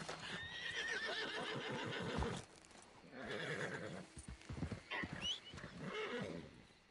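A horse in the video game Red Dead Redemption 2 gives loud, shrill neighs and whinnies, mixed with quick clip-clop hoofbeats, in a busy, close burst that runs through the whole short stretch.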